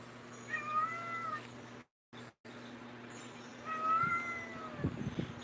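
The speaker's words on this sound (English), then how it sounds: "both my Spink cats are very vocal" Two meows from a Sphynx cat indoors, each a drawn-out wavering call separated by a short gap of silence, over a steady low hum with some soft handling noise near the end.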